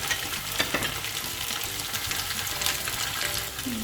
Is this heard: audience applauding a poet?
no